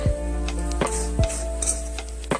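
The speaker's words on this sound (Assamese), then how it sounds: "এতিয়া মই ইয়াত মিক্স কৰিম আদা নহৰু" Ginger and garlic being stirred into chicken frying in a pan for a chicken and banana flower curry: a close, steady sizzle broken by several sharp scrapes of a spoon against the pan over a constant low hum.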